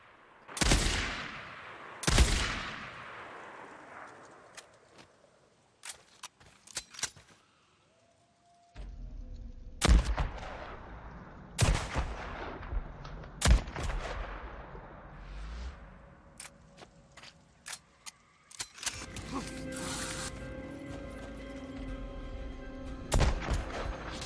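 Heavy shots from the 50 cal BFG sniper rifle in the zombie video game Days Gone: several loud, booming single reports with long echoing tails, irregularly spaced, mixed with sharper clicks and game ambience toward the end.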